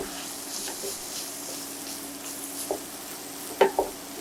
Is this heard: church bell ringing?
no